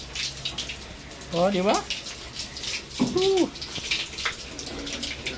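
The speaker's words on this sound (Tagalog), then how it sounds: "Gripo. So, para malinis." Tap water runs from a faucet at a countryside hut, a steady wash of broadband noise that persists throughout while someone speaks briefly over it.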